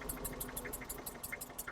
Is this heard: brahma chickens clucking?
no